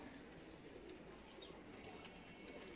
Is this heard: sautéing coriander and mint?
no